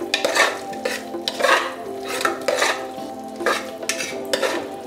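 Green masala paste for mushroom pulao stirred and sautéed in a pan, a spoon scraping in repeated strokes with light clinks against the metal and a soft sizzle underneath, close and steady with no talk.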